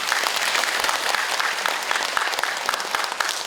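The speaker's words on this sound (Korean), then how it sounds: "박수 한번 좀 쳐드릴까요?" An audience at a commemorative special lecture claps, a dense, continuous round of applause from many hands lasting the whole few seconds, fairly close and loud.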